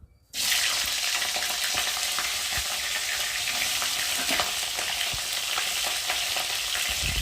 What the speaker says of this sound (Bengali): আর এখন এই যে কেটে রাখা ফুলকপিগুলোকে দিয়ে ভালো করে ভেজে নেব।